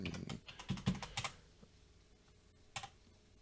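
Keyboard typing on a computer while entering a sudo password: a quick burst of close, crisp key clicks, then sparse isolated taps against a quiet background.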